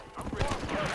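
Horse hooves clopping during a night ride in the video game Red Dead Redemption, a quick run of uneven thuds close up, mixed with faint game ambience in a brief burst.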